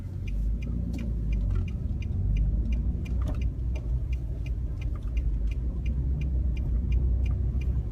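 A new Nissan Frontier Pro-4X pickup drives along, a steady low engine and road rumble with a regular light ticking running through it, and no one speaking.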